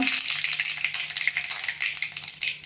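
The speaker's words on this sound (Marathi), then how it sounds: "तेल तापलंय फोडणी करूया आता मोहरी घालते गॅस बारीक करते आहे त्यामध्ये जिरं घालूया" Mustard seeds and cumin sizzle and crackle in hot oil in a kadhai during tempering, a dense, steady frying hiss with sharp pops throughout, close and fairly loud.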